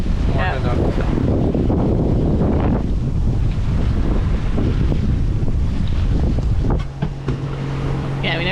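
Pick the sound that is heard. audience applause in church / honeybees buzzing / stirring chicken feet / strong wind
strong wind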